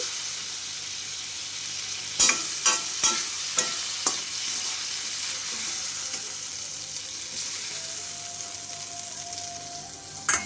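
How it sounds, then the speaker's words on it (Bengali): Prawns frying in oil in a wok, a soft continuous sizzle with several sharp scraping stirs and clinks of a utensil against the pan, fairly quiet and close. "মাছটা তো ভাজা হয়ে গেছে এর থেকে বেশি আর আমি ভাজবো না"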